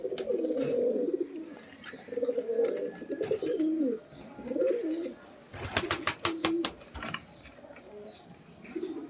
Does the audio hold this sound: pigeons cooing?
yes